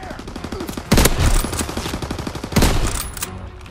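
Lever-action sniper rifle firing in the Call of Duty video game: two loud, sharp booming shots about a second and a half apart, each with a rolling tail, over steady background game noise.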